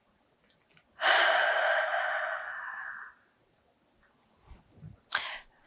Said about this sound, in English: take a deep cleansing breath in through the nose and out of the mouth